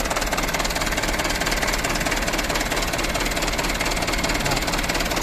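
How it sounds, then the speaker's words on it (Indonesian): A FUSO Canter truck engine idles steadily just after starting, a loud, continuous diesel clatter with a fine knocking rhythm and no pauses throughout. "Setelah mesin dihidupkan"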